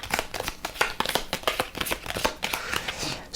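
Playing cards in a tabletop card game being shuffled and added to a deck, producing a run of quick, crisp riffling and snapping taps close up, with no talking over them.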